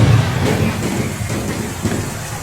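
Steady heavy rain pours down outdoors, a loud continuous hiss and patter of falling water with a low rumbling undertone, filling the scene without a break and with no voices.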